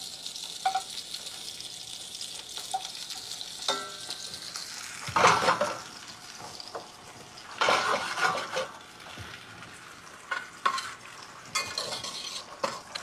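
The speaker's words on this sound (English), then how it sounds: "I'm just glazing them, reducing that liquid, the natural liquid that's come out of the carrots, to a glaze" Carrots glaze in a pan as their natural liquid reduces, a soft bubbling sizzle broken by intermittent stirring clinks and scrapes of a utensil, close and moderately quiet.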